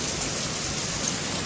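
Heavy night rain pours down in a dense, steady hiss, a short burst of constant downpour with no voices.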